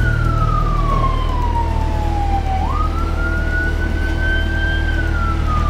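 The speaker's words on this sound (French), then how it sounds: "Sous les sirènes." Emergency vehicle siren wailing in a city street, one continuous loud tone sweeping slowly down and then rising again over steady traffic rumble.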